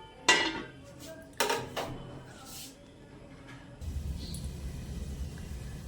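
A lid is set over a cooking pot of rice, potato and pointed gourd on a gas flame, with a sharp metallic clank, a second clatter and a short scrape, then a low steady rumble of the burner.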